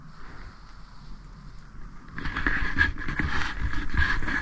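Wind buffets the microphone while cycling outdoors in cool +2 C weather, a low rushing roar that grows noticeably louder and gustier halfway through.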